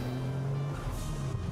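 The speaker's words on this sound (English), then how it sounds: "The turbo sounds great." A turbocharged car engine in a racing video game holds a steady, droning mid-pitched note at close range, revving slightly with a faint whoosh toward the end.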